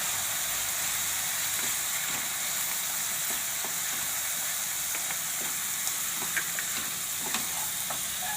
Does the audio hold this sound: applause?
no